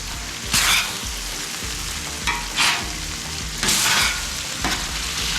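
Octopus on a CampChef griddle sizzles loudly and steadily, with several bursts of harder hissing as pieces are moved or tossed on the hot surface; no talking.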